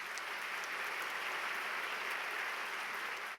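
Dense, steady applause from a large audience at a university entrance ceremony in Korea as the university president comes forward, holding a continuous roar of clapping before cutting off abruptly.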